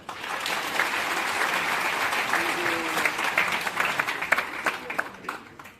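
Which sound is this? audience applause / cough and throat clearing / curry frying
audience applause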